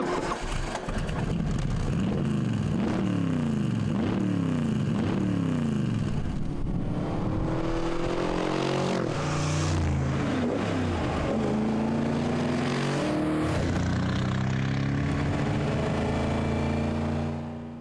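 A Bizzarrini GT 5300 two-seater with a full-blooded V8 mounted far back accelerates hard through several gears, its loud, continuous roar climbing in pitch in repeated sweeps and dropping back at each shift, with no voices.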